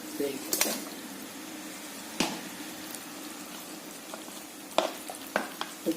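A pan of fish and mango curry cooking, with a soft, steady simmering sizzle and a few sharp stirring clatters and knocks spread through it.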